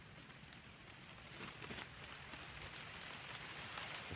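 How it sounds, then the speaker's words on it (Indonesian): Light rain patters on an outdoor fishing spot, a faint, steady hiss of drops growing slightly heavier, with scattered soft taps and no voices. "Hujan maning bro."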